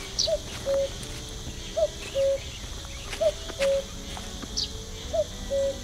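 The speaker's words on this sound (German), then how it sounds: "Wo bist du denn, du Kuckuck?" A cuckoo calls in a forest in the video game The Night of the Rabbit: four evenly spaced two-note calls, clear and moderately near, over soft woodland ambience with faint high bird chirps.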